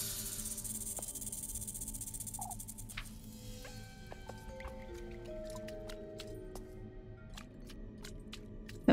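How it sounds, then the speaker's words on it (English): A snake in the video game Little Goody Two Shoes, heard as faint wet squishing and dripping ticks over a low ambient drone, with a string of scattered clicks and a sharp final tap. "I hear the snake somewhere."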